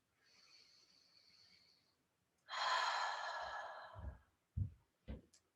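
Breathing during a seated chair yoga session, a soft long inhale followed by a louder, fuller sighing exhale, close to the microphone, ending in a few light thumps.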